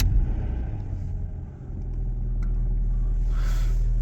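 A German car engine running, a steady low rumble that holds at a moderate level and rises slightly toward the end, with no voices.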